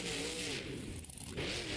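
A monster truck engine roars and revs hard through an endo stunt at a Monster Jam Indy Series event in Lamar. The roar stays loud and dense, dips briefly near the middle, then surges again.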